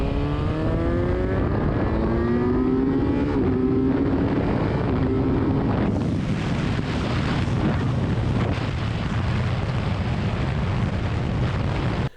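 A Kawasaki Z900 motorcycle fitted with an aftermarket air filter, ridden on the highway, its engine revving up through the gears with a loud, continuous roar and rising pitch sweeps, then a steady drone mixed with wind noise.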